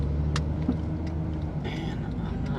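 Busy road traffic produces a steady low rumble of passing cars from nearby, with a brief faint voice or breath sound mixed in.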